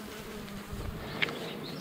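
Honey bees buzz at the entrance of a nuc box as they come and go, a soft, steady hum with one brief sharper buzz close by.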